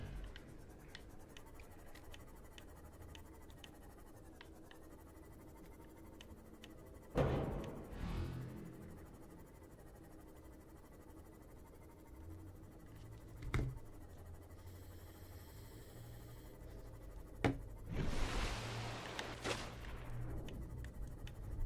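Keyboard clicks and game controller button presses come through as quiet scattered taps and a few louder clacks over a low background hum, with no talking.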